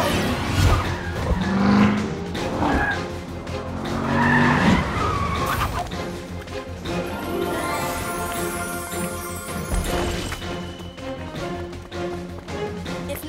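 A cartoon cat-shaped car speeds along with loud tire skids and squeals, engine noise rising and falling over a busy animated soundtrack with music underneath.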